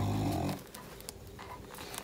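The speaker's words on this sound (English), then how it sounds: "I'm sorry you're hearing a lot of snoring. It's nap time." A sleeping dog snores nearby during an afternoon nap, one heavy rumbling snore at the start and then faint soft breathing and small rustles.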